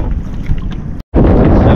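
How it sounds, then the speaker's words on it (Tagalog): Strong wind buffets the microphone and waves slosh around a small fishing boat at sea, loud and continuous with a brief dropout. "Lakas ang alon. Tsaka hangin."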